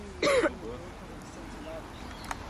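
A single short cough, close and fairly loud, comes near the start, then only quiet background with faint voices.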